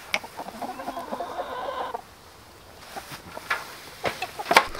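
Hens cluck and murmur nearby, with a few sharper squawks toward the end over a steady background hum; no one speaks.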